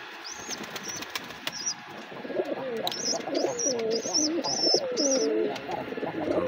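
Pigeons being fed on a rooftop after rain coo repeatedly in low, rolling calls, with sharp wing flaps and a few chirps, all close by.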